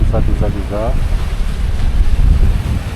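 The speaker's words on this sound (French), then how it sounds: "Il y a beaucoup de vent." Strong wind buffets the microphone with a constant low roar, and a brief voice is heard at the start.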